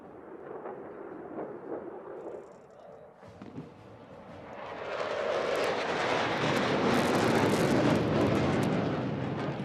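A Solo Turk aerobatic jet performing a roll at an air show parade in Pakistan, its engine roar swelling from a distant rumble to a loud, sustained blast, with announcer talk faint early on.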